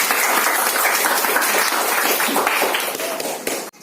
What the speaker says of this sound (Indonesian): Tepuk tangan kita semua dulu.